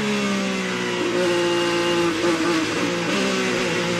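IndyCar engine held on gentle, steady throttle from an onboard camera at the 2014 Alabama race through a fast chicane, a continuous loud mid-pitched drone with slight pitch wobble and no voices.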